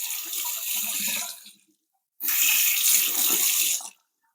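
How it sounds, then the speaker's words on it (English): Tap water running into and rinsing out a water bowl in two loud bursts, a brief pause between them, close up with no voices. "washing out the water bowl on the fly"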